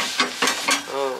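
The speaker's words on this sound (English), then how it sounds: "Now I'm just going to try and wipe some of the excess oil off" Hot oil sizzles and crackles on an antique cast waffle maker as excess oil is wiped off, with three short louder bursts of frying hiss, fairly close.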